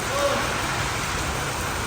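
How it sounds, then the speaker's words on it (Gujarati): Rain falling steadily in a forest, a dense, even hiss of drops that stays constant and close throughout, with no distinct thunder. "જો આ વરસાદ જ છે"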